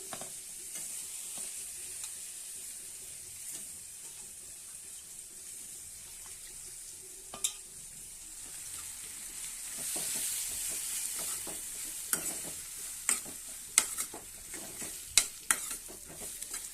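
Brinjal pieces sizzle steadily in a hot pan for a brinjal fry, with a continuous close hiss, scattered clicks and scrapes of stirring, and a louder, busier stretch in the second half.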